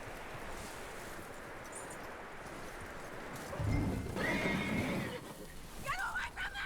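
A horse in the video game Red Dead Redemption II whinnies and clip-clops over wind and rustling, with a louder burst of movement midway and voices speaking in the scene.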